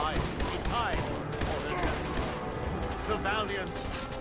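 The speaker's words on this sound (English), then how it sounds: "Who's shooting me?" Rapid bursts of gunfire from pipe guns in the video game Fallout 4, a dense continuous volley of shots filling the clip with no pauses.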